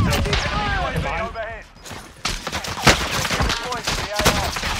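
Rifle and automatic gunfire in the battle royale game Warzone: sharp shots and fast volleys close by and loud, with someone talking over the first half and a brief lull before shooting resumes.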